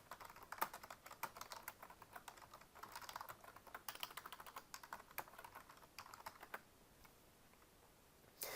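Steady typing on a computer keyboard while entering a help request for application access in a self-service app, quick irregular key clicks at close range, slowing near the end, with no talking.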